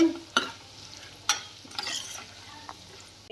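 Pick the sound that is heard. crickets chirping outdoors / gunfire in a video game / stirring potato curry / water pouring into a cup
stirring potato curry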